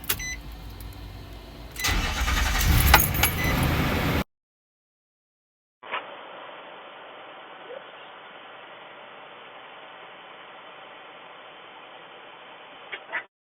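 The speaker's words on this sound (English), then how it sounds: "Confirm, start the vehicle." A car engine cranked using a Lokithor JT400 jump starter on a 12.6-volt wet flooded battery: a loud burst of cranking and engine noise, then silence, followed by a long, even hum.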